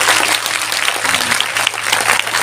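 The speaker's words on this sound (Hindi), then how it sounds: "बनखंडेर सेवा समिति के लिए थोड़ा और जोर से बजाओ" Devotees at a Bhagavat Katha temple gathering break into loud, continuous applause, a dense wash of hand claps that holds steady throughout.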